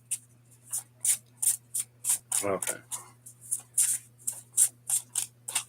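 Playing cards shuffled by hand during a card game, a rapid series of crisp riffling bursts repeating steadily, close by, with a brief spoken remark in the middle.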